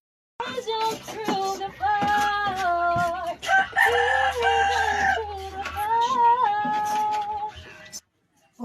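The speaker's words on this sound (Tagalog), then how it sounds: "Pati ang manok nakikanta na rin sa akin mga ka-idol." A rooster crows loudly and close by, its long wavering call rising and falling over a steady low hum, with clattering in the background.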